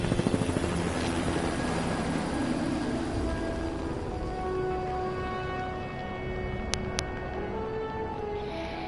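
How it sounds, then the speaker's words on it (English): A helicopter deployed by an ACU unit in the Jurassic World Evolution video game, its rotor chop and engine drone steady and loud for the whole stretch, with no voices. "ACU units can deploy helicopters"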